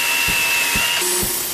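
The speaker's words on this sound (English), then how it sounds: "Sanding one side of the spatula flush." A power sander works one side of a layered wooden spatula flush, giving a steady, loud, close hiss with faint rhythmic thumps about every half second.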